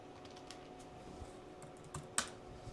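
Soft, scattered keystrokes tap on a wireless computer keyboard being paired, quiet clicks spaced irregularly in a still room with one sharper clack near the end.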